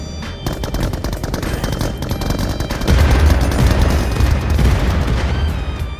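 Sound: gunfire shooting in a video game (BGMI)

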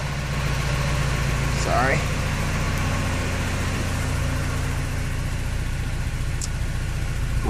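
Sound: Porsche 944 engine idling

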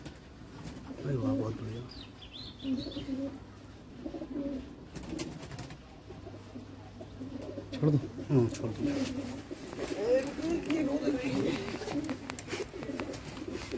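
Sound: teddy pigeons cooing

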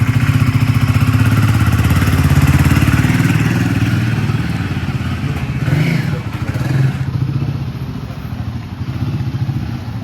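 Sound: motorcycle being ridden

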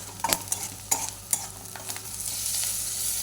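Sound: stirring spices with turmeric frying in pan

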